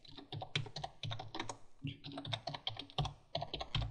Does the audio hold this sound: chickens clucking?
no